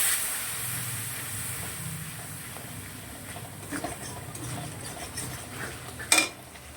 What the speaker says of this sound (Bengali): সামান্য একটু জল দিয়ে দিলাম। এবার মশলাটা খুব ভালো করে কষিয়ে নেব।